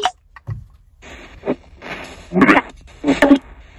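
Choppy bursts of static and fragmented sound from a spirit box sweep in and out in quick, irregular snatches as the radio scans rapidly through stations.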